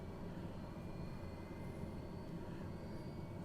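A Beechcraft aircraft engine in Microsoft Flight Simulator runs as a steady, fairly quiet low drone with a faint hiss and high whine, constant throughout with no talking.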